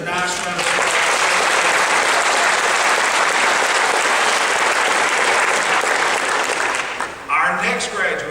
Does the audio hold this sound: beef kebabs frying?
no